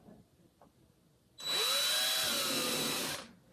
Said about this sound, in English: this is when I would drill a hole for the screw, and the clay is it's leather hard now